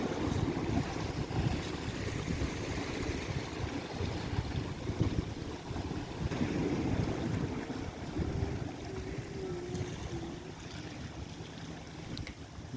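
KMP BRR ferry crossing at sea toward Sabang, with steady wind noise buffeting the microphone over continuous low rumble and wash of waves, loud and unbroken throughout with no voices.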